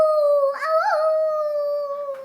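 A voice imitates a howling dog or werewolf, a loud, sustained, wavering howl rising and sliding in pitch, close and alone for about two seconds.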